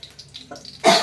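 Nigella seeds dropped into hot mustard oil in a wok burst into a sudden loud sizzle near the end, after a quiet stretch of faint dripping and clinks, the hiss holding strong and close with no voices.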